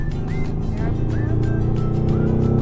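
A race car lapping a track, its engine a loud, steady drone throughout with brief rising pitch sweeps as it accelerates, close and continuous.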